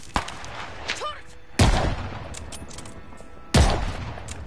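Turret gunfire in Call of Duty Vanguard, two loud heavy booming blasts a couple of seconds apart, each trailing off in a rumble, with lighter battle noise between them.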